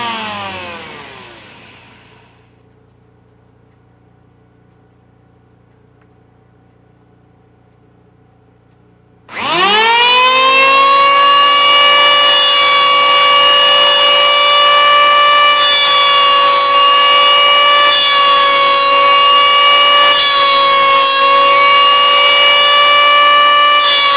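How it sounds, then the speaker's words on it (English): An electric planer starts up with a sharp rising whine after a quiet fading tail, then runs loud and steady while shaving a few millimetres off wood, its tone shifting slightly under load. "I'm going to have to take a few mil off of this with the planer"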